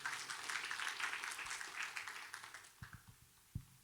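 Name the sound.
congregation applause in church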